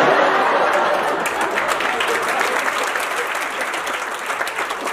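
Audience at a motivational talk applauding wholeheartedly, a dense steady wash of many hands clapping that fills the room and tapers slightly toward the end, with no voices over it.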